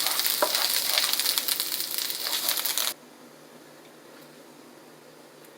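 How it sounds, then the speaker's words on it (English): Ginger and garlic fry in a pan with a loud, dense sizzle for about three seconds that then drops abruptly to a faint, low background hiss, with no voices. "We're going to fry that along with the garlic"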